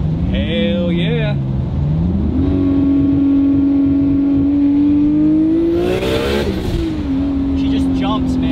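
A 1027 hp Lexus IS300 street sleeper revs hard and pulls through its gears from inside the cabin, giving a loud, sustained engine drone that climbs in pitch, dips at a shift, then rises again, with people talking over it.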